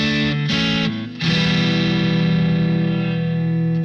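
Sonicake QGT-01 guitar effects unit on its dreadnought acoustic body simulation, playing sustained strummed chords with a bright, full resonance, loud and alone, with a brief pause before ringing out.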